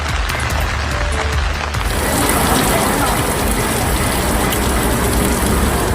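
Continuous heavy rain pouring down on waterlogged streets in Tiruchendur, loud and close, shifting from a brief lighter patter into a dense, unbroken roar.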